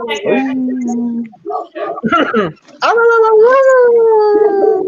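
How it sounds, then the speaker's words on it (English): A pet dog howls in long, wavering sung tones that rise and fall, loud and close, with a person's voice breaking in briefly between the howls. "See? You're upsetting the dog again."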